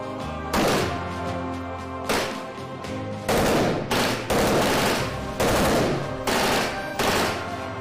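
Sustained automatic gunfire from a video game shooter, played in long loud bursts separated by brief pauses, with heavy overlapping shots and no talk.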